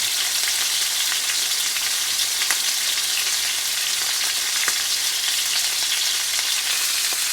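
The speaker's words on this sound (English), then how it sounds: "take the beef and sear it for about a minute on each side" Beef sears in a hot pan for a Beef Wellington, producing a loud, steady, dense sizzle with occasional faint pops and no talking.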